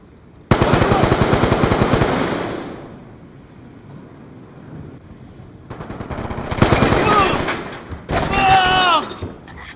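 Loud bursts of rapid automatic gunfire from the shooter game Black Ops 2, one long burst, then a quieter gap and two more bursts near the end, with a voice talking partly over the shots.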